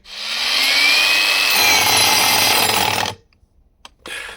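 A Revolt cordless angle grinder runs on its own with the trigger released, a steady loud whine with a faint rising tone that cuts off abruptly after three seconds, followed by near silence and a brief return of noise.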